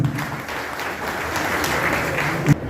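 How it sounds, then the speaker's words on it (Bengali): Applause from an audience at the Fatikchhari Blood Donors Club tenth anniversary and World Blood Donor Day event, a steady dense clapping that runs evenly throughout with a brief louder burst near the end. "তারা আজকে বেরিয়ে আসছে, সেজন্য আরো একটা জোরে তালি।"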